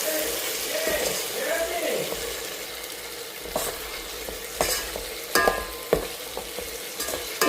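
Chopped tomatoes and vegetables sauté with turmeric powder in a pan for ugani, a puffed rice dish, with a steady close sizzle broken by scraping, clicking spoon strokes as they are stirred, and no voices.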